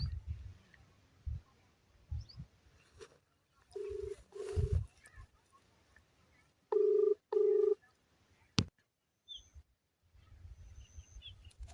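A phone call is placed with a few short electronic dialing beeps in separated pairs, fairly faint and close, with quiet gaps and bits of background noise between them.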